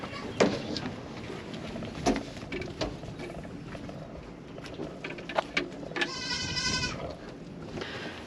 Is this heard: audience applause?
no